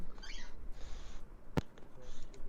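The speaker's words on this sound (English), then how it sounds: "Oh, the birds are going again, I hear." Birds chirp in the background in short, bright bursts, repeated a few times over a quiet room-tone hum, with one sharp click partway through.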